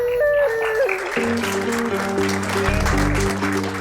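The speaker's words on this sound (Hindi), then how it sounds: "मैं आप सब लोगों की तालियों का मतलब समझ गया हूं" A school audience claps for the principal before a dance competition, a dense burst of applause layered over sustained tonal music.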